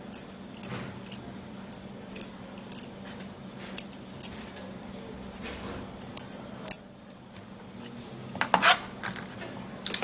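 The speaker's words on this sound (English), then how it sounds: "So peel up the garlic and keep it ready." Garlic cloves being peeled by hand, giving soft dry rustles and crackly scraping with a few sharper snaps, close up and fairly quiet, with no speech.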